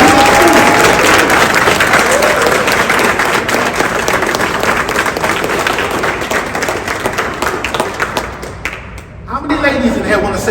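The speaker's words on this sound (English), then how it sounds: "So can you give them a round of applause?" Audience at an awards ceremony applauds loudly, a dense wash of clapping with scattered thumps and crowd noise, sustained before dipping and picking back up near the end.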